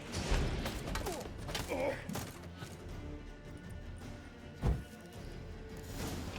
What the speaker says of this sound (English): Damn it, explosion triggered that fight.